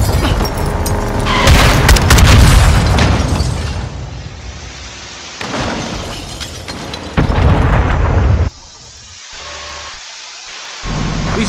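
Booming in-game mine explosions from the Modern Warfare 2 campaign, a loud rumbling blast followed by further heavy thuds and debris-like rumble, with no talk.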